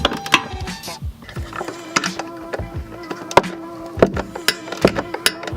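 A ratchet tightens bolts during a Perrin shifter bushing install on a BRZ/FRS/86, giving rapid clicking bursts mixed with metallic clanks and knocks at close range, uneven in rhythm, with no voices.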